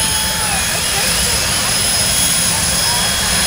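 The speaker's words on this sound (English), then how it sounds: "Step is to put a jet on the go-kart." A jet engine mounted on a go-kart roars loudly and continuously nearby with a high whine, and there is no break in the sound.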